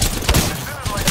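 Rapid gunfire from the Apex Legends video game is loud and close, with bursts of shots packed into about a second and a voice partly under the shooting.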